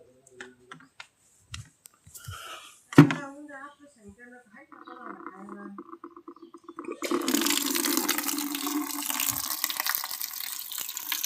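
Water is poured out for goats to drink, a loud steady splashing gush that starts partway through, preceded by quieter clicks, knocks and a faint voice.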